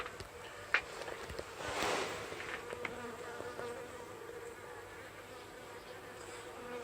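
A dense buzz of many honeybees swarming close by around an opened Flow Hive Hybrid, with a few sharp knocks and rustles near the start.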